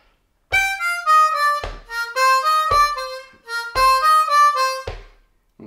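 A Bb harmonica plays lick seven: several bright, bending phrases in short bursts separated by brief breath pauses, close and alone.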